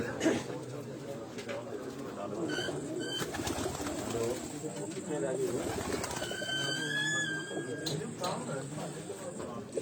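Racing pigeons on a rooftop in Sheikhupura coo and rustle among the flock, with a few higher bird calls, while someone talks over them at close range the whole time.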